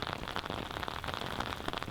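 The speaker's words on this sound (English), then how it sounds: "it was wet in the rain" Rain falls steadily on a disc golf course during a tournament round, a dense even patter of drops that stays close and continuous throughout, with no voices.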